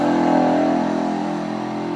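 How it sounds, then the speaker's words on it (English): A neighbor's go-kart runs nearby with a steady mid-pitched engine drone that holds at a fairly even level throughout, with no voices. "The neighbor's grandson has a go-kart, and he terrorizes his neighborhood with it."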